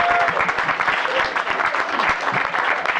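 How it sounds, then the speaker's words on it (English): Audience applause at a comedy and magic show during a Seventh Day Adventist camp, brisk dense clapping that is loud and continuous for a few seconds. "Give Joel a big round of applause."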